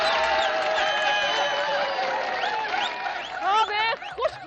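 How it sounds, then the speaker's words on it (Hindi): A studio audience at a TV comedy show applauds and cheers with whistles and shouts, loud and lively, while a voice carries over the crowd. "एड्स के लिए जोरदार तालियां"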